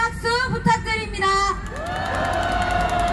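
A large rally crowd at a night-before-holiday gathering in an outdoor city square cheers and applauds, whoops and shouts layered over a sustained wash of clapping, with a whistle-like tone near the end.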